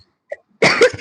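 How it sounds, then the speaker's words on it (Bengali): A person coughs close to the microphone: a small throat sound first, then after a brief pause one loud, harsh cough that fills the rest of the moment. "সরি গাইস, আমার একটু কাশি হয়েছে।"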